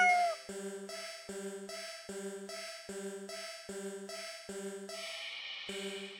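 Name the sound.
cat purring or meowing in a video game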